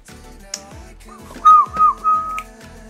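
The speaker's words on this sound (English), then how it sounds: "Don't ask me why I'm whistling." A person whistles a short tune, a few clear rising and falling notes over faint clicks and handling sounds nearby.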